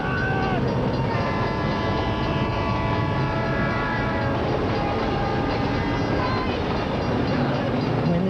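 A passing train sounds its horn in long, loud, steady tones over a continuous heavy roar of rolling cars close by, with urgent voices partly buried beneath it.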